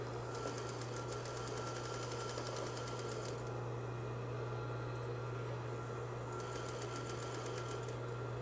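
A sewing machine runs a seam in fast, even bursts of needle clatter over a steady motor hum, stopping briefly and starting again, fairly quiet and without talk.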